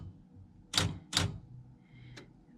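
Keys struck on a TA Satellite III manual typewriter indoors: two crisp, loud clacks about half a second apart, then a lighter click, close up with no talking.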